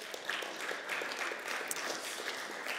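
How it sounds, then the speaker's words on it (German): Faint, scattered clapping from a church congregation, many hands patting unevenly at a low level and heard from a distance, with no talk over it. "Applaus für Safi und den Josh"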